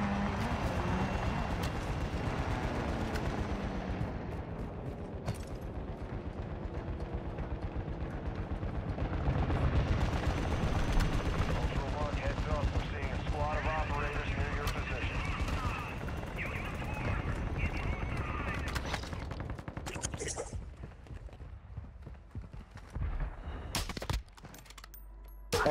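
Gunfire from a Call of Duty DMZ match, dense and continuous with shots blending into a steady roar, fairly loud throughout and thinning toward the end, with a few sharp isolated cracks near the close.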